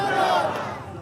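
A crowd at a Shiv Sena political rally in Maharashtra roaring and shouting slogans together, a brief loud swell of massed voices that fades slightly.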